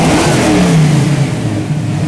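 A healthy 5-liter car engine revs hard as the throttle is snapped, a loud close roar that sweeps up and then slowly falls back toward idle, with no talking.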